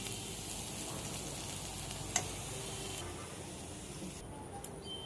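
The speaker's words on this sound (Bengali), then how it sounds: "আলু পেঁয়াজ উচ্ছা একসাথে ভাজা করে নিলাম" Sliced potato, onion and bitter gourd frying together in a pan, a continuous close sizzle with a faint stirring scrape partway through, steady and fairly quiet with no talk.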